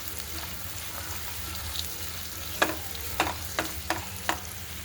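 Long strips of garlic sizzle in hot oil in a pan for vegetable masala rice, a soft steady frying hiss broken by several sharp scraping clicks of stirring near the end.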